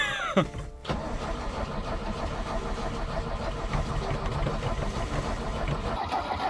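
An old Zhiguli car with an oil-soaked gearbox being started: a brief rising whine and a short pause, then a steady, loud, rough mechanical rumble that continues to the end.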